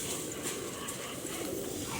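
Pigeons cooing outdoors while being fed, a soft steady murmur of low calls amid faint background noise.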